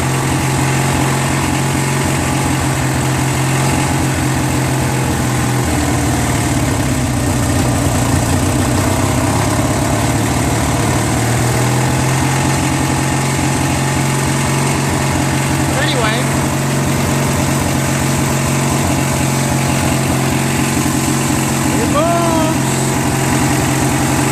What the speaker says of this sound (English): So I just put the belt on, started it up. It doesn't run as smooth as that one. Carburetor needs adjustment.